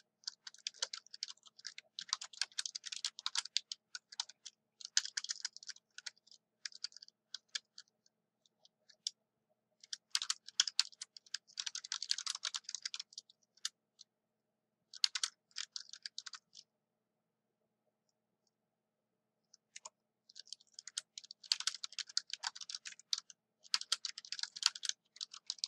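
Typing on a computer keyboard while working in Excel, quick clusters of close, crisp key clicks in several bursts separated by short pauses of silence.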